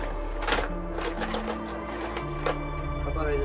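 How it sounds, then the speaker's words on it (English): A power drill bores a hole in a van's kitchen wall, its motor whining in steady tones that step up and down in pitch over a low hum, with faint scraping and clicks close by. "we need to drill a hole in that"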